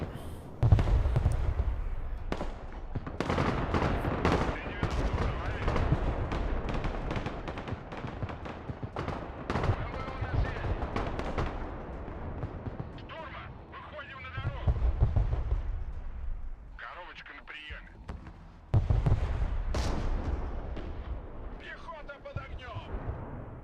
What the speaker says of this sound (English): Look at all those mortars there.